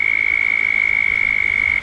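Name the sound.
loud frog croaking in a backyard pond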